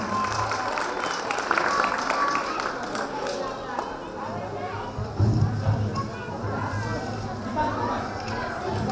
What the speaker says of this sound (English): Big applause for Ovi.